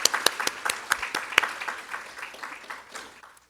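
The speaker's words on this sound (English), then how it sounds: "give a round of applause to AVI and our catering services for this lunch" Applause from a modest audience at an academic symposium lunch, distinct individual claps near the start thinning and fading out over a few seconds.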